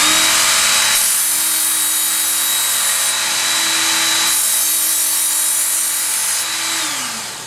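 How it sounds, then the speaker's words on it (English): A knife drawn through a belt-type knife sharpener makes a loud, steady abrasive whirring grind with a constant motor tone, brightening in several strokes before winding down at the end, with no talk. "you want to make sure you pull the knife through evenly on both sides"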